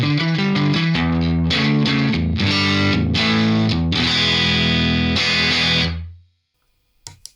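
Electric guitar through a Universal Audio Ruby pedal with its default speaker cab, a Vox-style tone with a short run of distorted, chorus-tinged chords, loud and close, that cuts off before a faint tap at the end.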